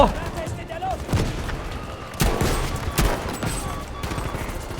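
Rapid gunfire from soldiers lying prone in the video game Battlefield V, with bursts and booming shots layered over a dense battle din, while a voice talks throughout.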